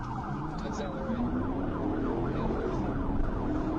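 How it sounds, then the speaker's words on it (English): A police car siren wails in rising and falling sweeps during a high-speed chase, mixed with the rush of road and engine noise, steady and moderately loud. "Trooper activated the sirens"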